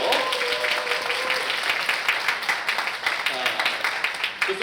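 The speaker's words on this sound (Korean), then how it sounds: "다시 한번 큰 박수 부탁드릴게요." Audience applause at a youth talk concert, a steady wash of clapping from a crowd that runs throughout at even strength, with a voice faintly audible underneath.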